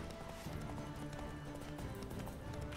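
Horse hooves clip-clop steadily at a gallop through open country in the video game The Witcher 3, a continuous rhythmic drumming with soft ambient game sound around it, no one talking.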